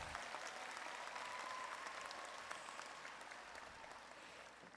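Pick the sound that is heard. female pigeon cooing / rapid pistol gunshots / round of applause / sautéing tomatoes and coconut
round of applause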